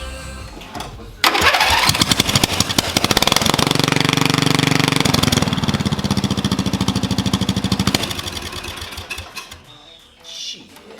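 A racing lawnmower engine with a straight pipe and no muffler fires up, then runs loud and raspy with rapid staccato pulses and revs for several seconds before dying down, with a voice briefly heard near the end.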